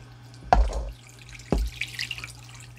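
White vinegar poured into a measuring cup for zucchini relish: two short splashing glugs about a second apart, close by, then a light trickle and clinking.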